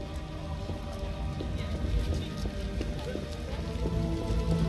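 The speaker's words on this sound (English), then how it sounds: "Real downpour." Steady heavy rain pours down in the video game The Witcher, a dense hiss of drops drumming on surfaces, with low tonal background sounds underneath.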